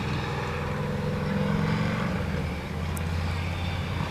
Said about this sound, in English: There's a motorcycle coming.